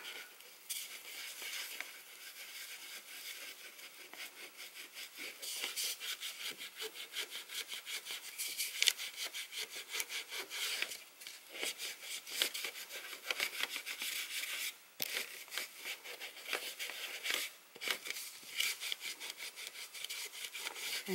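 Steady scratchy rubbing as an image transfer is worked off by hand, a continuous dry abrasive scrubbing with repeated strokes, close and moderately loud, with no talk.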